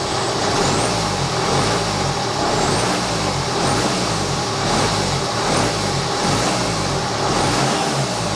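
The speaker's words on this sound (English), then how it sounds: "Engine seems to rev a bit more freely." A diesel engine with its EGR system removed revs up and settles repeatedly, loud and close, the engine note rising and falling in several bursts with no talk over it.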